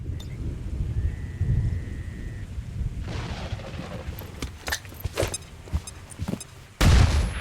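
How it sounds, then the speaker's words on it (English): A flashbang grenade goes off in the video game XCOM 2, a sudden loud burst near the end following quieter scattered crackles and rumbling game ambience. "Let's flashbang them to open."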